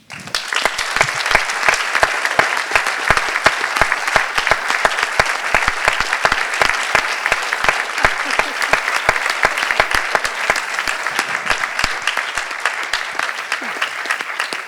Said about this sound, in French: vous méritez des grands applaudissements